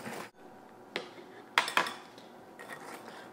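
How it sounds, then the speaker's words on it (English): Clinks and scrapes from mixing an egg into creamed butter and sugar for banana bread, a few sharp utensil knocks against the bowl in quick pairs with softer stirring between, close and alone. "we just want to mix 1 egg in at a time while mixing at the same time"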